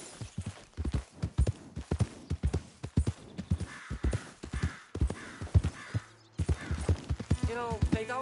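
Horse hooves clip-clop at a steady trot in the video game Red Dead Redemption 2, close and rhythmic, with a rider's voice speaking over parts and birds cawing faintly in the background.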